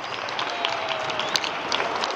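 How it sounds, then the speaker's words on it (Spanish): Audience at a foundation volunteer event applauding steadily, a dense patter of many hands clapping with a few sharper claps standing out. "Un aplauso para la doctora María Luisa de Moreno."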